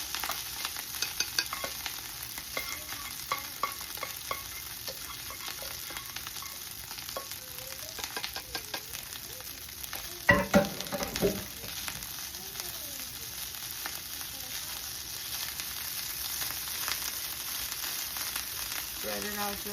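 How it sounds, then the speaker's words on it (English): Garlic rice fries in butter in a pan with a steady, soft sizzle, broken by brief stirring scrapes and a louder clatter partway through, all fairly quiet and close with no talk. "I want to fry it a little bit with the butter"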